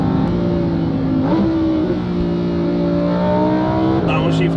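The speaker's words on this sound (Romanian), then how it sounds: "Downshift-ul ăsta e ceva..." A Lamborghini on air suspension holds a loud, steady engine drone, with the pitch stepping up and down a couple of times as it shifts, close and continuous, with no one talking.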